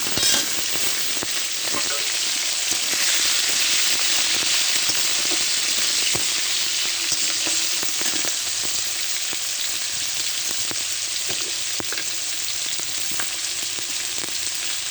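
Fish flower frying in hot oil with red amaranth leaves, a dense continuous sizzle and crackle with stirring, steady and close throughout, no voices.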